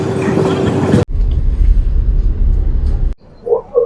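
Passenger train travelling through Kerala toward Kottayam and Chengannur, heard from inside as a loud, steady low rumble that cuts out briefly, resumes, then drops to a quieter stretch with faint voices at the end.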